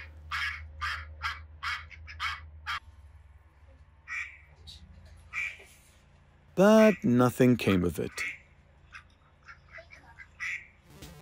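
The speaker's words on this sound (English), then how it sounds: "We even tried two quick trials with duck sounds." Recorded duck calls played back to wild ducks near decoys: a loud burst of repeated quacks in the middle, with someone speaking calmly before and after and faint bird calls in the background.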